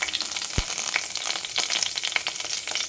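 Mustard seeds, cumin and broken dried red chillies frying in hot oil for a spiced brinjal curry, a dense steady sizzle with scattered crackles and seed pops throughout, close and fairly loud, no voices.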